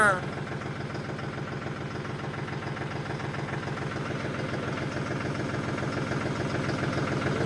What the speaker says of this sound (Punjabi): ਹੁਣ ਗਰਮ ਜਿਹਾ ਕਰਤਾ ਇੰਜਣ ਬਸ 10 ਮਿੰਟ ਸਟਾਰਟ ਖੜਾ ਕੇ